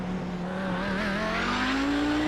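An Audi 90 GTO race car at Spa, with the rear end swinging around, its engine note climbing steadily and loud, close up with tires squealing underneath and no talking.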